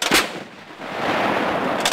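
Military guns fire rounds on a range in Slovenia. A loud blast opens the clip, followed by a rolling, noisy rumble and another report at the very end.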